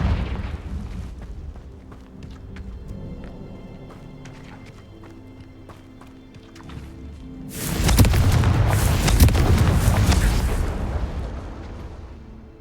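Confringo spell explosions in Hogwarts Legacy: light footsteps and small clicks, then a loud rumbling blast burst with crackling debris lasting a few seconds before fading.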